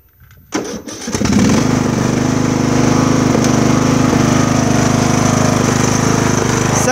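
A Craftsman lawn mower engine cranks briefly, then catches and runs at a loud, steady idle close by, with no talking over it.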